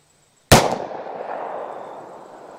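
A single sharp, loud .327 Magnum revolver shot cracks out alone, then a long reverberant tail fades over the next two seconds.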